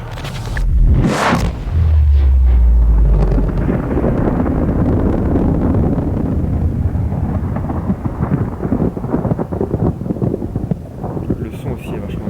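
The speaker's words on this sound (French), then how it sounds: "L'explosion est vraiment bien faite." A deep, rumbling explosion in the underwater survival game Subnautica, a loud low boom that swells early and then rolls on as a long, dense roar, with a voice talking over it.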